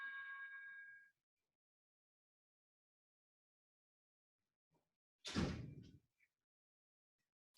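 An office door bumps open or shut once with a single solid thud in a quiet room, after a short electronic chime fades at the start.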